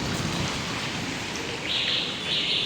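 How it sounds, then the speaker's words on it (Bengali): Rain falls as a steady, enveloping hiss with no breaks, while a thin bright chirping tone rises above it in the second half. "বৃষ্টি পড়ছে"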